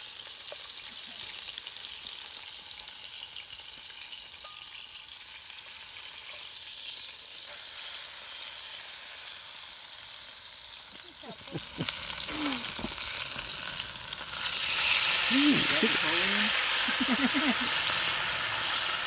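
Meat hits a hot cast iron pan and a loud steady sizzle rises, growing stronger partway through, with brief voices in the background.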